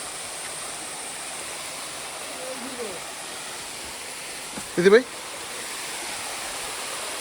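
Water flows steadily in a crystal-clear stream at a hidden waterfall, a constant broadband rush running alone through most of the moment, with a brief voice cutting in near the end.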